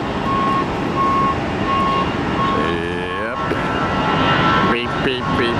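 A steady electronic reversing beep repeats at even intervals over loud engine and wind noise at Tampa airport, with a vehicle rumble rising and shifting partway through.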